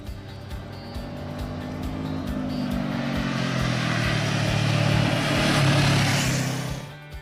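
Honda CB500F motorcycle with a 471 cc inline twin engine, running close and loud, its engine note rising and holding through a steady pull before easing off near the end, no speech.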